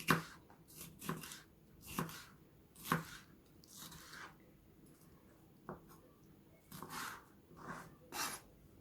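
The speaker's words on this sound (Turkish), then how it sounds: "Onları da çok çok ince doğramıyorum." A knife chops mixed herbs on a cutting board in irregular bursts of quick taps, close and crisp, with short pauses between runs of cuts.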